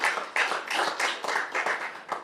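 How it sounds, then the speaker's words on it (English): Scattered hand clapping in a municipal council meeting chamber, a handful of distinct claps in an uneven rhythm, fairly close and moderate in volume, with no talking. "And I think that deserves a round of applause."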